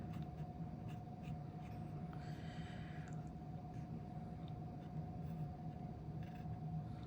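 A pen loaded with document black ink scratches steadily across paper, faint and close, a continuous dry rasp over low background hum, with no talking.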